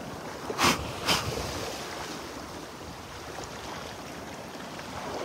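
Ocean surf on a North beach walk, a steady wash of waves and wind noise with two brief louder bursts early on, fairly quiet overall and with no talking.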